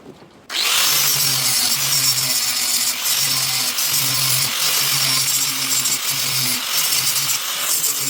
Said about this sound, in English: Not only am I grinding the paint, but I also want to get rid of that oxidation